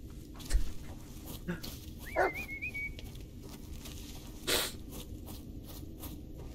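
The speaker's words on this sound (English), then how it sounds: "I think my dog's losing his mind." A dog in the Blair Witch video game (2019) gives soft whimpers and a few short yips and barks, scattered through a quiet, dark-sounding ambience with brief high whines in between.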